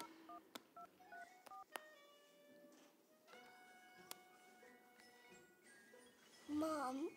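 Telephone keypad dialing tones while placing a call: a series of short, clean DTMF beeps spaced irregularly over quiet room noise, followed by a brief burst of a voice near the end.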